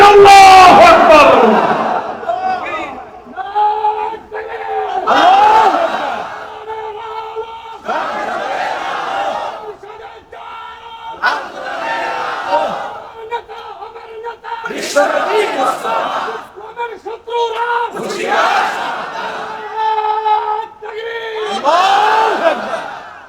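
At a religious gathering in Bangladesh, a leader's call alternates with a large crowd roaring a rhythmic Islamic chant of Nara-e-Takbir, Allahu Akbar. The loud, repeated call-and-response bursts are separated by brief pauses.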